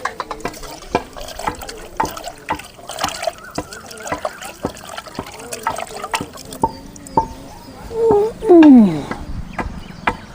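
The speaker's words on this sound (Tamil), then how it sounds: "தண்ணி ஊற்றி ஊற வச்சுக்கலாம்." Water is poured over tamarind to soak it while a traditional village banana leaf curry is prepared; a soft trickle and splash comes through near the end, amid background chatter and clatter.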